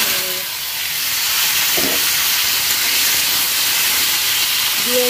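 Potatoes go into hot oil left from frying bitter gourd, seasoned with panch phoron five-spice, and raise a loud, steady, close sizzling hiss with a couple of brief utensil clinks.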